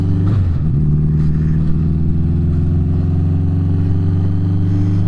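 A cafe racer motorcycle engine runs close and loud with a deep, throbbing idle-like rumble, a brief clunk and rev change near the start as it shifts through the gears, no voices.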